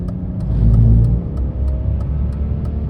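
Engine of a BMW E46 wagon with about 250,000 miles rumbling steadily while driving, a loud low drone that swells briefly as it revs, then settles into a continuous cruise.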